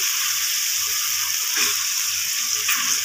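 Steady, bright sizzling of green chili paste frying in a hot pan, continuous and close, with faint soft stirring scrapes underneath.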